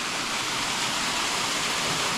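A waterfall in Koh Samui roars as a steady, dense hiss of falling water, close and continuous with no voices.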